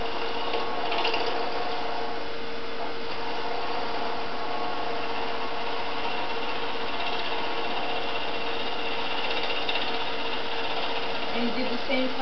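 A skew chisel cutting a wood workpiece spinning on a lathe, a steady whirring hum with a continuous scraping cut throughout, faint and even with no clear breaks.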